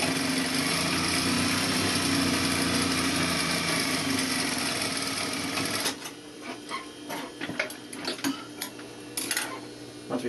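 A sewing machine stitches a flat felled seam with a 3/4 inch allowance, running in a fast, steady whir for about six seconds before stopping, followed by scattered light clicks and handling noises.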